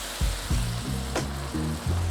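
White wine poured into a pan of sizzling sautéed garlic, a steady hot frying hiss with repeated low bubbling surges and a brief sharper burst partway through, close and continuous with no talking.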